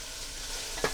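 Beef browning in a pot of oil for an old-fashioned beef stew, a brief steady hiss of sizzling with one sharp stir or scrape near the end.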